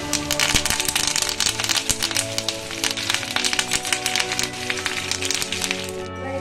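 Chopped ginger, garlic, dried and green chillies and curry leaves fry in hot oil, giving dense, loud crackling and sharp spitting pops over a constant sizzle, close up and without a break.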